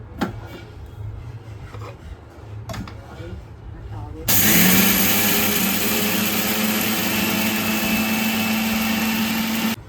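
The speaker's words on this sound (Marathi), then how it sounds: "त्याची पावडर बनवून घेणार आहोत या मिक्सरवरती लावून" A mixer grinder starts abruptly partway through and runs steadily at high speed grinding fenugreek seeds into powder, a loud whirring grind after a few seconds of quieter background noise.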